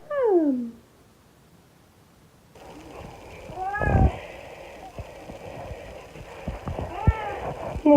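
A cat gives a short descending meow at the start, then after a pause comes clattering, a thump and a brief higher mew near the end, all heard up close indoors.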